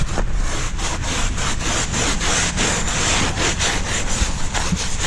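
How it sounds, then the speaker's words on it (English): A stiff brush scrubs a truck tire in steady rapid back-and-forth strokes, a loud continuous rasping rub with a regular rhythm, close up and alone. "I'm going to scrub it really good."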